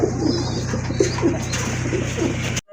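A male fancy short-face pigeon with a crested head coos in a repeated low, throaty rhythm, close and clear, over a steady background hum.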